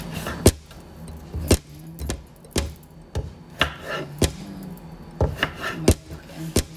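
Knife chopping a bottle gourd (upo) into large cubes on a board, a series of sharp, irregular close thuds with short pauses between cuts, with no talk.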